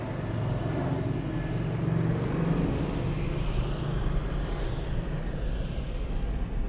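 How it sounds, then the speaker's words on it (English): An Aerologic cargo plane taxies toward runway 25 center at Frankfurt Airport in the evening, its engines giving a steady low rumble and hum with no clear rise or fall, heard alone at moderate distance. "Aerologic flying to Toronto, taxiing to runway 25 center"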